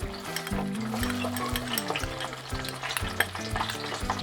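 Garlic frying in hot oil for a homemade Kerala-style fish pickle, a steady loud sizzle with stirring scrapes and clinks of the pan throughout.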